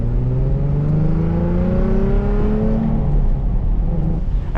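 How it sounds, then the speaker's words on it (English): Stock exhaust on a Nissan 350Z Roadster revving hard, a loud, close engine note climbing in pitch through several rising sweeps with no talking. "And remember, this is the stock exhaust."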